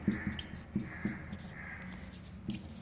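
Pen strokes scratching on paper while working a Class 10 maths problem, a series of short soft scribbles with brief taps in quiet room, fairly close and low in level, no one speaking.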